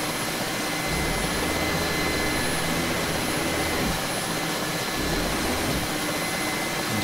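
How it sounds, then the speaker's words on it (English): A Mil Mi-8 MTV helicopter in the DCS flight game, overspeeding while firing at trucks, gives a loud, continuous turbine roar with a low rotor throb that rises slightly partway through and holds steady throughout. "Helicopter's not too happy about building up that much speed."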